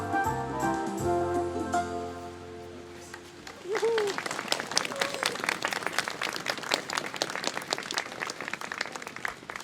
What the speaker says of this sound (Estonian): plaksutame neile